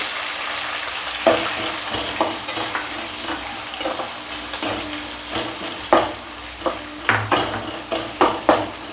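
Onions sautéing in a pan for a home-style fish curry, with a steady low sizzle under repeated sharp scrapes and knocks of a spoon stirring against the pan.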